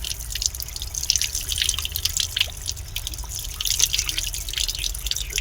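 Water trickling and dripping from a tap at the Gol Gumbaz monument, a fairly quiet, steady patter of drops over a low background hum, with no voices.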